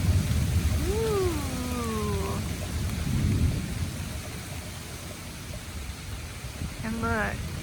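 A summer thunderstorm rolls over a garden with steady rain hiss and low rumbling thunder swelling and fading, while a few brief rising and falling vocal calls cut through near the start and end.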